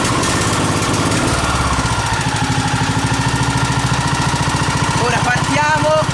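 A Snapper 11.5 HP ride-on lawn mower engine cranks and catches at full throttle, settling into a loud, steady knocking idle close by, with a voice speaking briefly over it.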